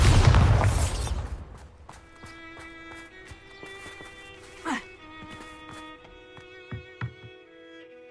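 A loud, booming Bombarda spell blast in Hogwarts Legacy opens the clip, roaring for about a second before decaying into a quieter magical hum with a few scattered pops.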